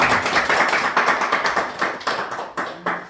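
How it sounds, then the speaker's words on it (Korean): Dense, steady applause from a crowd of residents at a village-development meeting in Anteo village, Saenggeuk-myeon, Eumseong County, Korea. Many hands clap together for about three seconds, close and fairly loud, with no talking. "박수! 수고하셨습니다."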